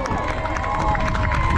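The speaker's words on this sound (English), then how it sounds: "How about a round of applause for the JoCo Arsenal cheerleaders of 8Y" Outdoor crowd at a youth football homecoming game cheers and claps for the cheerleaders, a brief distant wash of applause with voices mixed in.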